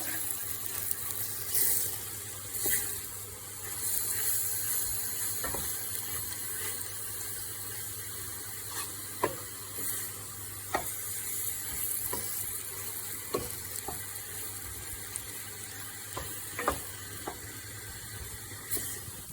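Steady sizzling of oyster mushrooms and chestnuts frying over high heat in a pan, with occasional sharper crackles and pops, no voices.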